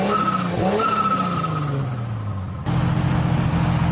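A Nissan S13's engine runs steadily right after starting, its tone sliding down and then settling into a constant, fairly loud drone close by, with no talking.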